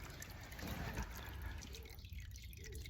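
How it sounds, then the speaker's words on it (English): Transmission fluid drains from an Impala in a thin, quiet stream, giving a soft continuous trickle with faint dripping. "Decided to start draining the transmission fluid from the Impala."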